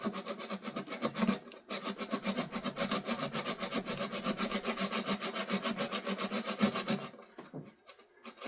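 A hand tool saws and rasps away material on a Piper Apache PA-23 aircraft in a fast, even back-and-forth rhythm, loud and close, stopping near the end.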